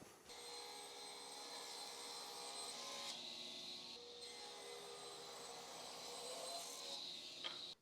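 A table saw with a 60-tooth crosscut blade cutting across wood: a steady high whine and cutting roar that holds for several seconds, dips briefly midway, then spins down with a final click, close and fairly loud, no voices.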